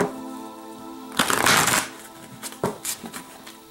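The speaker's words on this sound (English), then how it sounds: "So I'm just going to shuffle one more time here, and I'm going to cut this deck." A deck of tarot cards is shuffled close by, a brief riffling burst followed by a few lighter flicks and taps as the cards settle.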